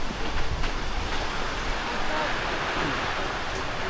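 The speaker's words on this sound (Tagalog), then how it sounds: "Sisimula na lumakas ang hangin." Strong typhoon wind roars in a steady, broad rush outdoors at night during a power outage, loud and unbroken with gusty swells, no speech.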